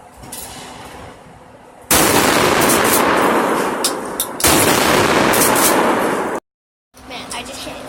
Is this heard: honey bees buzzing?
no